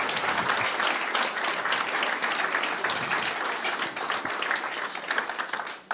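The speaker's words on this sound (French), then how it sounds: "Merci Binta, on peut l'applaudir." An audience applauds a speaker named Binta at a networking forum, with dense, steady clapping filling the room for several seconds before cutting off.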